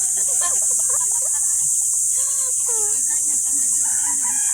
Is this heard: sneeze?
no